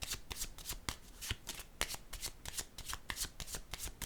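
Playing cards being handled and laid down, a rapid run of crisp riffling snaps and light slaps close by, each card landing with a soft flick, with no talk over them.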